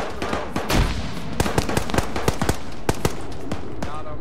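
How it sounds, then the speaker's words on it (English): A military shooter game firefight with a frag grenade going off, heard as a burst of sharp cracking blasts and repeated loud gunshots at close range, spread irregularly across the few seconds. "Put a frag grenade out there."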